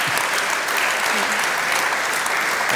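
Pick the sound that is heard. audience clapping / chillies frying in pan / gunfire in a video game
audience clapping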